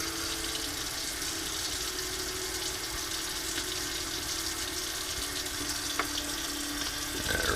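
Water from a kitchen tap runs steadily over raw shrimp in a sink, a constant broad rushing hiss that stays level throughout, with no voices.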